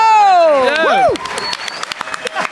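Studio audience on a French-language game show breaks into applause and cheers after a host's big musical introduction, the clapping rising loud once the sung tones end.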